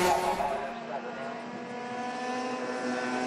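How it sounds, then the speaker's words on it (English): A Rotax Max kart engine screams at high, nearly constant revs near its rev limiter during a race, buzzing steadily and holding close to its peak for the whole stretch. "The kart sounds well set up with the engine just peaking on the rev limiter"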